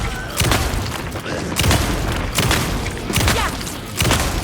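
Repeated gunshots from Alan Wake 2, several sharp booming shots spaced about a second apart over constant game ambience, with no clear talk.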